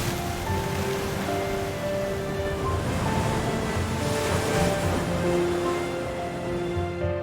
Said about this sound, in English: The uncompromising waves of the Atlantic Ocean break against the majestic cliffs